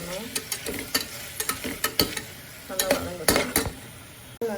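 Chopped tomatoes sauté and sizzle in a pan for kuska while a metal spoon stirs and scrapes, giving irregular sharp clinks and knocks close by over a low, steady frying hiss.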